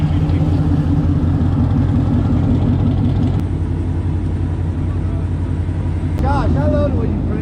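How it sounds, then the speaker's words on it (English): A loud nitrous-equipped Ford Mustang GT 5.0 engine drones steadily and close from inside the car during a street race, with a deep, unbroken rumble throughout. A voice briefly rises over it near the end. "the car's so fucking loud"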